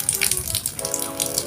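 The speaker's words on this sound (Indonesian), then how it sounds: "Hujan, hujan." Rain falling and splashing on surfaces nearby, a dense, irregular patter with hissing spray, fairly loud and continuous with no talk over it.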